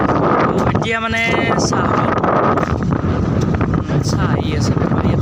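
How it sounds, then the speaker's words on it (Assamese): Strong outdoor wind buffets the microphone in a constant loud rumble, while a person talks over it. "বতাহ ধুনীয়াকৈ বতাহ দি আছে"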